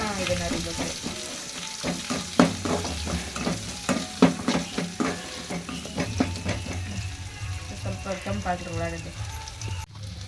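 Onions sizzle and crackle in hot oil while a spoon scrapes and stirs the pan in irregular knocks.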